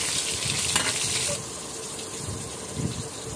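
Chopped garlic sizzles in hot oil for a fish dopiaza, a steady hiss that is loud in the first half and then settles to a softer, continuous frying sound, with no voices.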